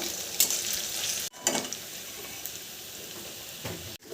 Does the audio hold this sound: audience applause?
no